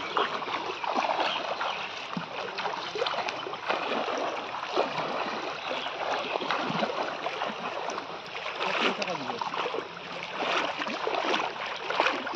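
Rising floodwater rushes and churns steadily in a dense, continuous wash of flowing water, fairly close and unbroken throughout, with no voices.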